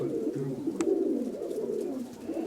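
A pigeon coos nearby in a soft, low, rolling burble that repeats steadily, with faint room noise around it.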